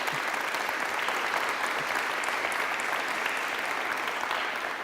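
Audience applause for João fills a university event at Porto, dense steady clapping from a crowd held at full strength throughout with no pause.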